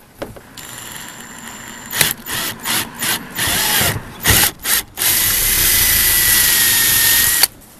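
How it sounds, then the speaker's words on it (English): A power drill with a 3/16 inch bit whirs in several short bursts, then runs steadily for a few seconds before stopping, close and loud. "now I have switched to a 3/16 inch bit, and we will drill"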